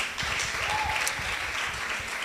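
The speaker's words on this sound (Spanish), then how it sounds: "Denle un aplauso fuerte al Señor." A church congregation breaks into loud, sustained applause, a dense crackle of many hands clapping close by with no break.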